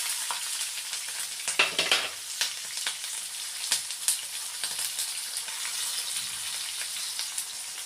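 Chopped onions with green chillies and tempering spices fry in hot oil in a pan, a bright continuous sizzle punctuated by sharp crackles and stirring clatter, close and without speech.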